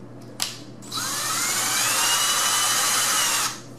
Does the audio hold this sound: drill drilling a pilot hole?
yes